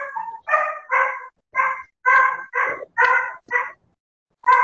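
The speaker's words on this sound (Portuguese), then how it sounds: "Tem um cachorro latindo aí." A dog barks repeatedly in a steady rhythm of sharp, fairly close barks with brief pauses between them, heard alone without talk.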